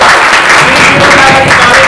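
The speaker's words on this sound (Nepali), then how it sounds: "भाउजूको लागि पनि एकचोटि जोरदार ताली" Loud, dense audience applause fills a Nepali entertainment show, a burst of clapping for a guest's wife. It is steady and close throughout the short stretch, with no one talking over it.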